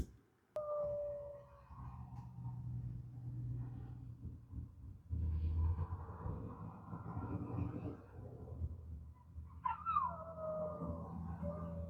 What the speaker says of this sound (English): These people left this puppy right next to me, and it's been crying this whole time